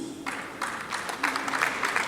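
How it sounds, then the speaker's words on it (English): An event audience claps in a faint, scattered round of applause that builds in uneven bursts, heard from some distance in a hall. "I think she deserves a round of applause for organizing this very great event."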